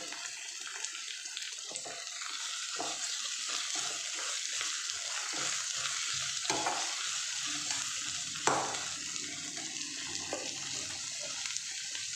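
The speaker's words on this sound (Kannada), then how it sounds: "ಚೆನ್ನಾಗಿ ಫ್ರೈ ಆಗಿ ಮಾಡಬೇಕು" Onions fry in a pan for paneer pepper dry, a constant crackling sizzle broken by repeated scraping and stirring strokes, with a sharper clatter midway and no talk.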